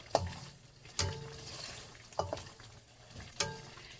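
Onion and garlic stir-fry in a pan under a soft, steady sizzle, with four distinct scraping stir strokes spaced about a second apart standing out against the quieter frying.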